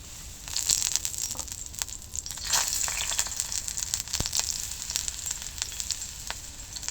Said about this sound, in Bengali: এবার বেগুনগুলো দিয়ে দেবো তাওয়ার মধ্যে